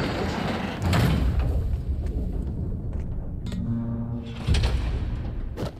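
A trap door in Marvel's Spider-Man game creaks and scrapes open, with dull thuds and a rattling slide in the middle, then a heavier knock near the end, loud and close over a dense background.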